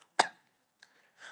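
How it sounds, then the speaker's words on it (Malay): A single sharp cough rings out, followed by a small throat sound and a softer trailing cough, fairly quiet and isolated. "Batuk."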